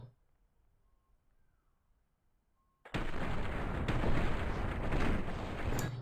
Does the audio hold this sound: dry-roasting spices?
no